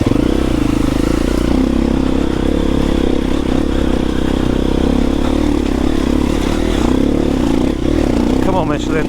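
A four-stroke enduro motorcycle being ridden off-road, its engine droning loud and steady throughout, with a few clattering knocks toward the end.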